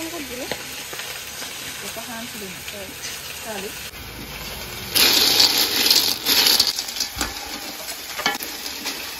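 Snails fry in a pan, with a low sizzle and a scraping stir under a voice at first, then bursts of loud, hissing sizzle toward the end.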